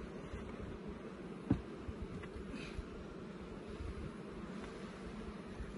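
Honey bees hum in a low, steady drone around the hive boxes, with a single sharp knock partway through.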